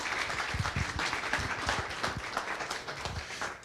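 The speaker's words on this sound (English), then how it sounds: "So give it his applause, please." An audience applauds the chair of an executive committee at a meeting, a steady, moderately loud wash of clapping that lasts a few seconds.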